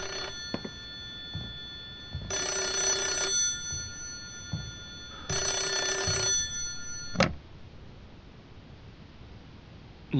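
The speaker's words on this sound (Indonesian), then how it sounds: "Suara teleponnya." A telephone rings in the horror video game Hollow Cocoon: two long, bright electronic ring bursts separated by a pause, ending with a click as it is picked up, over a quiet ambient background.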